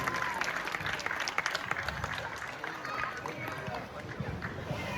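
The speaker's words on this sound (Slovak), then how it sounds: "Ešte raz veľký potlesk pre Tomáša Maka z týmu OFK Čakajovce." Steady applause from a crowd at a village football tournament honouring a player of OFK Čakajovce, dense clapping sustained throughout at moderate distance with a faint murmur beneath.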